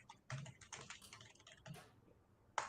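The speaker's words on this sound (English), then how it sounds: "So I'm just going to type that down." Quiet keystrokes on a computer keyboard, several quick irregular taps in short bursts followed by a pause and one sharper final key press, heard close with no voices.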